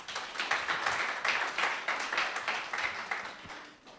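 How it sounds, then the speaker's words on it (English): Faint, somewhat distant applause from a conference audience at the Emergency Medicine Society of Ghana, a moderate crowd clapping in a fluttering, uneven rhythm. "something that definitely deserves a round of applause"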